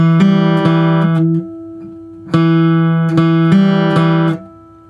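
Acoustic guitar picks out the opening notes of a song, single plucked tones sustained with clear pauses between, close and fairly loud with no talking.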